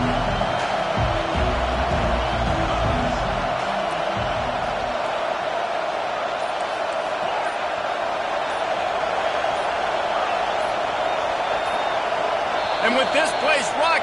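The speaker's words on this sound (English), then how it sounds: "with this place rocking, the crowd forces a false start" Stadium crowd roaring at a college football game between Ohio State and Kentucky, a loud, sustained wall of noise with thumping and stomping early on and a commentator talking over it.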